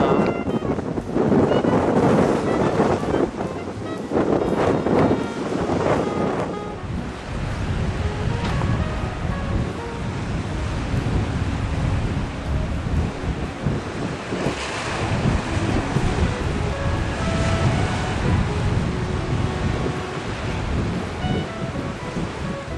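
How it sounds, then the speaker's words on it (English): Loud gusting wind at Cape Horn roars across the microphone, with surf washing in the background and no voices. "Oh, windy."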